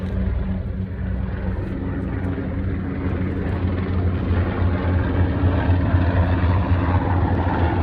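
Steady, loud rotor and engine drone of helicopters passing overhead, a continuous low throbbing rumble with no pauses and no talking.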